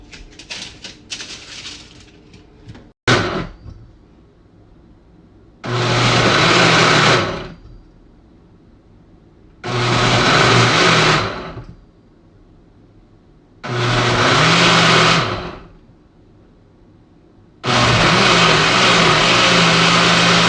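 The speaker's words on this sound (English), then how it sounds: "Now I'm going to add my pineapple to the rice. The rice is in the blender." A blender whirs through rice and pineapple in four separate loud pulses of a few seconds each, split by short pauses, close up with no talking; a sharp click comes just before the first pulse.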